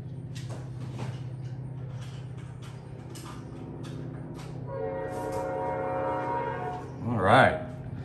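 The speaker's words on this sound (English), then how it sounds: "I am sorry for that train." A train passes at a distance, a low steady rumble that swells into a sustained horn-like tone near the end, heard beneath a quiet room.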